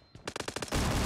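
Gunfire in PUBG Mobile: a quick burst of about six sharp automatic shots in close succession, then a loud sustained blast of noise, all within about a second.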